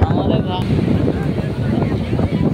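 A trawler boat engine roars steadily at high speed beneath heavy wind buffeting, with a voice talking over the constant rush of noise.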